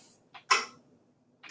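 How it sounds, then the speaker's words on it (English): A few sharp, crisp hand claps in a quarter-note rhythm, spaced evenly apart in a steady beat, in an otherwise quiet room. "So we would clap quarter notes like this."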